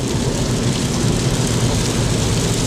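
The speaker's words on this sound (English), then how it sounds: "And again, more rain as he prepared to merge onto I-70." Heavy rain drums steadily on a moving car while approaching an interstate on-ramp, a dense, constant wash of noise with no voices.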